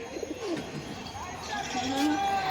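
Giribaj pigeons cooing in a loft, a few soft close rising and falling coos over faint background murmur.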